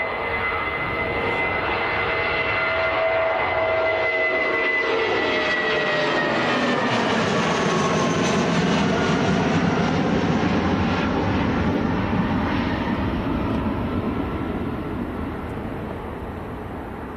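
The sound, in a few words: British Airways airliner passing, flight to Heathrow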